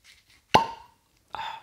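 The cork of a Laphroaig 10 Year Sherry Oak Finish whisky bottle pops out with a sharp, close hollow plop, followed by a second, softer plop in an otherwise quiet room.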